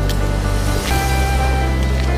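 Waterfall at Narwar lake, a steady broadband rush of falling water that fills the whole clip, loud and continuous, with a low engine-like hum underneath and no talk.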